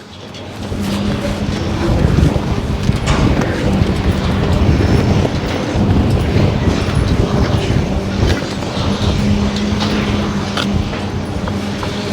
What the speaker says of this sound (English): this cool wind coming from the southwest